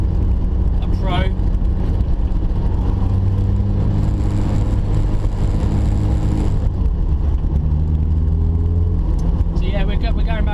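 A turbocharged, modified 364bhp Mazda MX5 with a heavy clutch pulls away and accelerates on a country road, its engine droning steadily and rising in pitch, with a voice talking over it.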